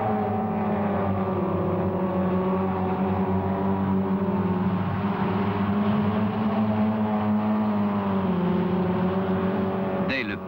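A pack of blue Renault R8 Gordini race cars roars through a lap together, their engines holding a steady, dense drone with layered harmonics, loud and continuous, with a brief rise near the end.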